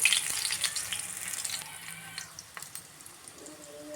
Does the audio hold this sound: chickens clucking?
no